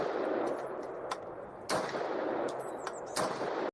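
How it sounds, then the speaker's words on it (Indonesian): A toy gun fires a string of electronic shooting sound effects, sharp bursts spaced unevenly over a constant buzzing hiss, fairly close and clear before cutting off abruptly. "Rupanya ini senjata mainan."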